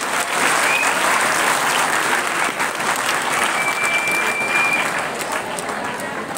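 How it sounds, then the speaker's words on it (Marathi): An audience at a large drawing competition event claps loudly and steadily, a dense sustained applause that carries on throughout. "जोरदार टाळ्यांनी स्वागत करायचं आहे।"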